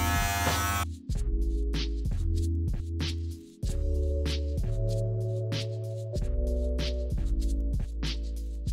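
Wahl home hair clipper cutting hair during a fade haircut, a close, steady electric buzz that repeatedly drops and changes pitch as the blades move through the hair in short strokes.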